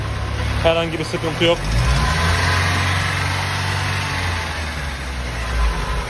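A petrol car's engine idles steadily right after switching over to LPG on a sequential LPG system, a low continuous hum running through, with someone talking briefly over it near the start.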